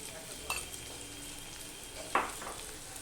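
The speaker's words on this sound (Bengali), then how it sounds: "পেঁয়াজটা আমি ভালো করে ভেজে নেব" Chopped onion frying with salt and green chilli in a pan, a steady soft sizzle with two brief stirring scrapes, close and moderately quiet, no talking.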